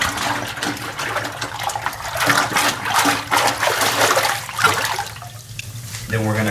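Water splashes and trickles in a rinse tank as a wind instrument is rinsed during a cleaning and disinfecting process at a music shop, an uneven close sloshing with some background noise.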